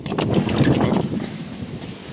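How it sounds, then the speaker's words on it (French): Low, blustery wind buffeting the microphone, a rumbling rush that swells and fades over a couple of seconds with no talking. "Désolé pour le vent."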